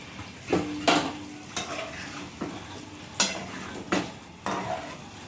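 Dry paneer pieces frying in a pan with a little oil, stirred in about seven distinct scraping strokes over a soft continuous sizzle, close and clear, no talking.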